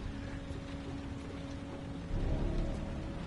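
Steady rain pours down in the video game Heavy Rain, a dense, continuous wash of drops with a low rumble that thickens and grows louder partway through, with no talking over it.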